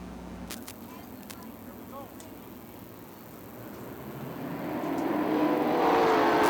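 410 sprint cars roar distantly around the Fremont Speedway dirt track in 2007, the engine noise swelling louder toward the end, with a few sharp clicks early on.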